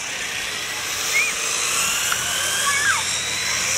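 P-51 Mustang fighters race overhead in an air race, a continuous distant engine drone with rising and falling whines as the planes pass, steady and fairly loud throughout.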